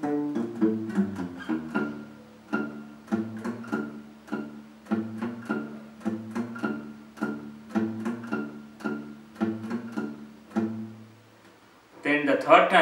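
Electric guitar plays the riff from a song, a string of plucked, ringing notes in a steady repeating rhythm, fairly quiet and close, ending with a short louder burst.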